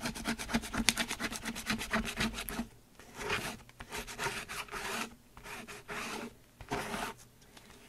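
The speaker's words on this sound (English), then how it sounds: "a good way to get rid of it is just to get a card and you just scrape it right off" A card scrapes dried craft medium off a craft mat in short, close, rasping strokes, first a rapid run of strokes, then slower separate scrapes.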